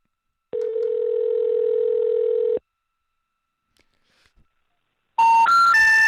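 A steady telephone dial tone holds for about two seconds, then after a pause a loud, harsh three-note intercept tone plays in rising steps, as before a number-not-in-service message.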